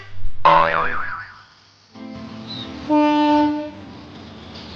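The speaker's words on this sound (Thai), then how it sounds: "รถท้องถิ่นขบวนที่ 408 เชียงใหม่ นครสวรรค์ จะจอดที่หยุดรถเขาพรึงด้วยนะคะขบวนนี้" Local train No. 408, Chiang Mai to Nakhon Sawan, arriving at the Khao Phlueng halt, sounds loud tonal horn blasts, one early and another sustained later, over a low rumble with no voices.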